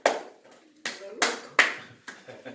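Hands clapping a steady beat, five or six sharp claps spaced about half a second apart, close and loud in a small room.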